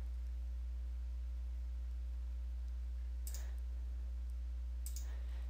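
Two crisp mouse clicks on a play button, spaced about a second and a half apart, quiet and close over a steady low electrical hum with no talk.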